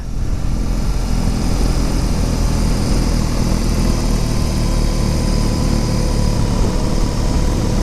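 A BMW R18 motorcycle pulls away on a Costa Rica road, its engine droning loud and steady throughout with strong wind and road noise, close to the microphone and with no voices.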